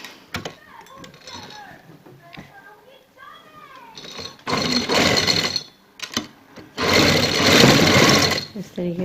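A sewing machine stitches zigzag lace onto a trouser hem in two loud, close, steady bursts of several seconds each, following a stretch of someone talking with soft handling clicks.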